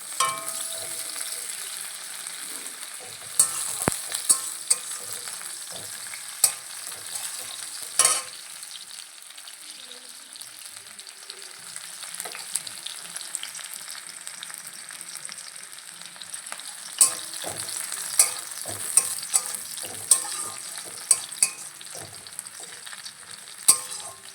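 Chopped onion and a green chilli frying in oil in a pan, a soft steady sizzle running throughout with scattered light spoon taps and scrapes, close up and without speech.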